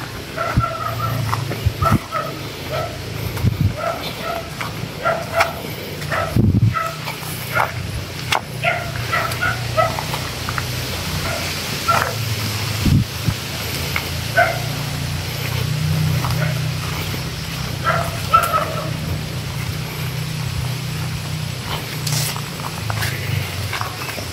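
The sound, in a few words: dog barking at the house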